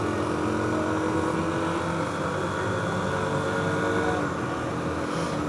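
A Kawasaki KLX 300 dual-sport motorcycle being ridden, a constant loud engine drone mixed with rushing wind, steady throughout with no talk.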